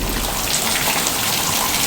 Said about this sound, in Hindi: भाई साहब क्या ही बारिश हो रही है, ज़बरदस्त तगड़ी बारिश भाई